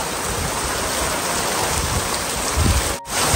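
Heavy monsoon rain in a Konkan village, a dense steady roar of downpour with a brief dropout near the end.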